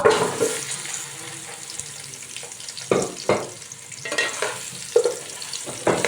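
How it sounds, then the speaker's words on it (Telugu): One kilogram of pumpkin pieces with curry leaves fry in a pan for a Telugu pumpkin sweet, a steady sizzle broken by several loud scraping stirs of a spoon at uneven intervals. "కొంచెం బాగా మిక్స్ చేద్దాం ముక్కలు బాగా ముందు వేగాలన్నమాట"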